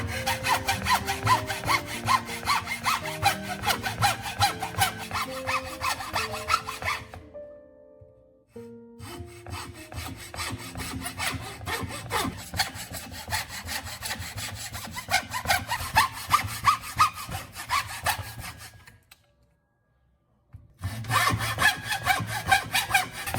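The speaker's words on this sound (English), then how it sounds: "On the center of the angled face, cut a shallow groove running lengthwise" A hand saw rasps a shallow lengthwise groove into an angled wooden face in quick back-and-forth strokes, pausing twice briefly before resuming the rhythmic sawing.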